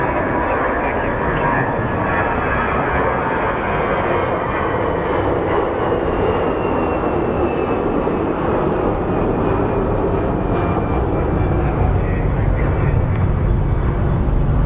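A JetBlue jet airliner at Phoenix Sky Harbor airport, its engines giving a steady, loud, broadband roar that holds without a break from start to finish.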